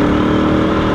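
A motorcycle engine hums steadily while being ridden through city streets near a traffic light, heard up close as a loud, continuous mid-pitched drone with wind noise.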